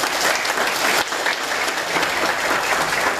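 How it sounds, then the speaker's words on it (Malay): Dense, loud applause fills a hall from a large audience at a Buddhist talk on entrepreneurship, a continuous wash of clapping that holds steady throughout. "Tepukan luar biasa untuk Anda."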